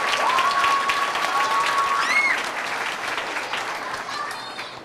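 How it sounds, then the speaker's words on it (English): Audience applause fills a school board meeting room, a steady wash of clapping from many hands that slowly fades, with a few high whistles and voices rising through it. "Give her another round of applause"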